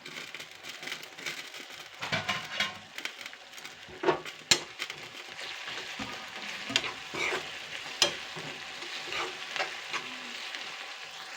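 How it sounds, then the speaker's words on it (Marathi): Onion frying in a pan while being stirred, a soft continuous sizzle with occasional scraping strokes and light clinks of a spoon against the pan, close but fairly quiet. "कांदा बराचसा असा फ्राय झालेला आहे"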